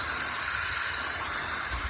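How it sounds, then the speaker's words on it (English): Water gushes under strong pressure from an open source in a house, a steady broadband hissing rush that stays constant and close throughout, with no voices. "There is water."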